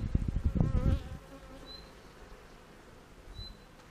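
Honeybees buzzing during a beehive inspection, a faint steady hum that is louder at the start with handling noises, then fades to a quiet drone.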